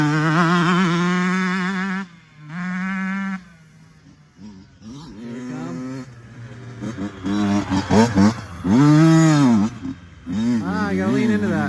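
Honda CR125 and 85 two-stroke dirt bikes ride past with rising and falling engine revs, loud and close at times, heard alongside people talking.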